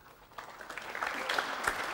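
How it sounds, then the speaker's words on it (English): The crowd at the 2008 Masters snooker first-round match between Marco Fu and Neil Robertson breaks into soft applause that swells over a couple of seconds and sounds fairly distant. "The applause acknowledges"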